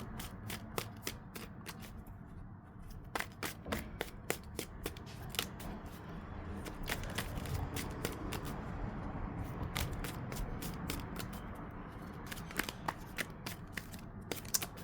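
Tarot cards being shuffled steadily, a dense run of crisp riffling snaps and flicks that keeps going close up without any talk.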